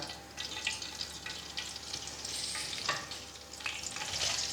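Soft sizzling and crackling of cumin seeds frying in hot oil, with small pops and a faint stirring noise, fairly quiet and continuous.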